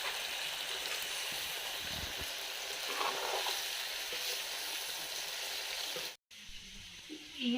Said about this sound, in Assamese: এতিয়া চিঙৰাকেইটা এতিয়া কম জুইত এনেকৈ ফ্ৰাই কৰা হৈছে